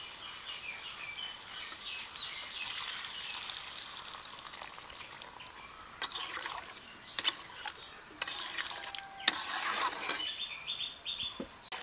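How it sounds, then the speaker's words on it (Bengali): Hot water poured into a pan of frying pointed gourd, potato and prawn curry gives a steady soft hiss that breaks into louder sizzling bursts partway through, with faint outdoor chirps in the background. "এখন অল্প করে গরম জল দিয়ে দেবো।"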